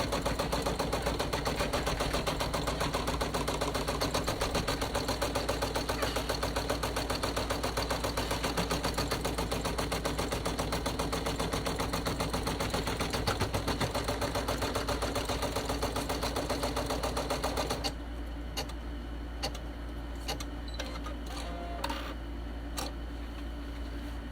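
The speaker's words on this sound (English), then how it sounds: "So my first step will be stitching a placement stitch so I can see where to place my fabric." An embroidery machine runs a placement stitch in rapid, steady mechanical ticking for about eighteen seconds, then stops, leaving a few scattered clicks and handling sounds.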